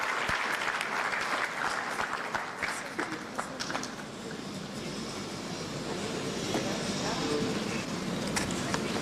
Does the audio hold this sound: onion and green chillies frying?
no